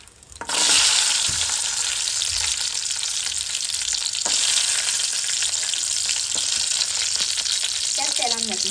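Garlic frying in hot oil in a pan, a loud steady sizzle that starts suddenly after a short quiet moment and keeps crackling, with occasional stirring clinks.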